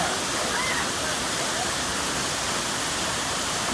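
Quimixto waterfall near Puerto Vallarta, Mexico, pours steadily into a pool where people are swimming, a dense, continuous rushing roar that fills the whole clip at close range with no break.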